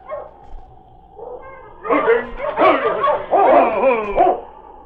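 A large dog barks and whimpers as it enters a barn with a police sergeant in a 1951 radio drama set in the Yukon, the barking bursting out loudly in the second half of the clip over a quiet opening.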